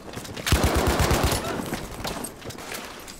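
Rapid burst of gunfire from a weapon in Battlefield 5, about eight close, loud shots in quick succession, then a fading tail of echo and ambient game noise.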